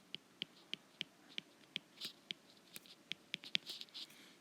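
A pen writing a trigonometric identity by hand on paper, with steady scratchy strokes and taps at a regular pace that grow a little busier toward the end, close and quiet with no speech.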